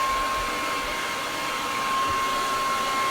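A hair dryer blows steadily at close range while cleaning mushrooms, a constant broadband whoosh with no breaks for the full few seconds.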